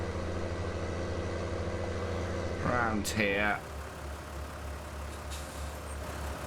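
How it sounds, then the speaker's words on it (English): Steady low drone of a tractor engine in the Farming Simulator 19 game, running continuously with a brief whine and hiss partway through, while someone talks over it. "Let's get this tractor out and following as well."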